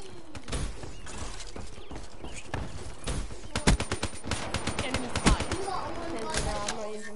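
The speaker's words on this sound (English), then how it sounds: "Enemy fire" Gunfire in the video game Call of Duty Black Ops 3, a dense stream of sharp shots with louder bursts in the middle, voices talking over the shooting.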